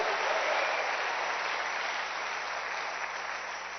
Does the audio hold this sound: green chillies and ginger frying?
no